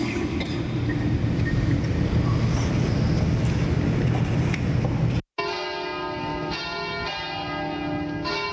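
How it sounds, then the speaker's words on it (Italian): Church bells ring at the end of mass. The opening stretch is a rough, windy rumble, then after a brief cut, steady, resonant bell tones sound with sustained ringing overtones. "Suonano le campane alla fine della messa."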